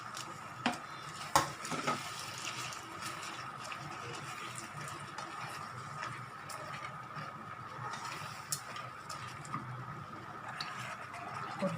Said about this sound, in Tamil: ஒரு 5 மினிட்ஸ் நம்ம கிளறிட்டே இருந்தோம்னா